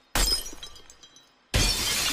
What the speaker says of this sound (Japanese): 鏡が割れただけだ